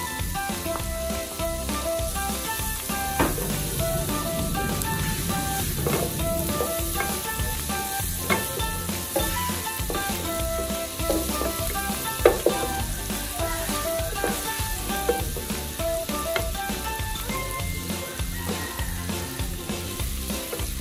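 Chopped onion sizzles steadily in hot oil in a pan, ahead of adding beef tongue. The frying crackle stays loud and continuous throughout, broken only by the occasional clink of a stirring utensil.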